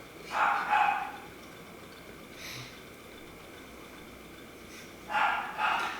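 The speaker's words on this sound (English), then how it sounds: "Will you shut that fucking dog up?" A dog barks in two short bursts of several quick barks, one near the start and one near the end, at moderate distance. Quiet background noise fills the gap between them.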